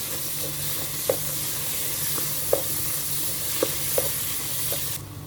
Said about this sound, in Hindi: और इनको भी अब हम 2 मिनट के लिए भून लेंगे।